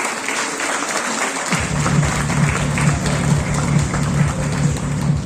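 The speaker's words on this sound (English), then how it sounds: "A round of applause." A university awards ceremony audience applauds steadily for an honoree, a dense, sustained wash of clapping, and after a second and a half a rhythmic low musical beat starts up underneath it.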